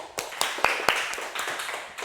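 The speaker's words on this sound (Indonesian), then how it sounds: "Tepuk tangan lagi" A few scattered hand claps in a classroom, sharp and close, spaced unevenly over a couple of seconds in a quiet room.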